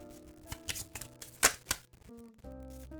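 Tarot cards shuffled close up in a quiet room, short papery riffles and flicks in a few uneven bursts, with one sharper snap near the middle.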